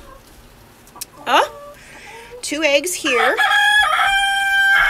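Chickens cluck and a rooster crows loudly nearby, the crow stretching out near the end, while a person speaks a few words.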